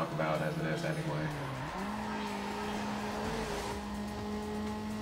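A car spins out in the street-racing game Need for Speed Underground, with a droning engine pitch that shifts as the tires squeal and skid across the pavement, loud and continuous.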